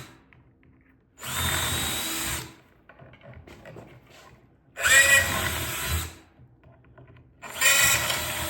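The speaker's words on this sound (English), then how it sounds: "And we're just gonna drill." Power drill driving into a board to mount a battery shelf, three loud bursts of a couple of seconds each separated by short pauses with faint handling noise between them.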